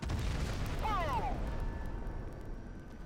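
An explosive barrel bursting in the shooter game Crysis Warhead, a short booming blast with a falling whistle-like tail over dense game ambience and gunfire noise.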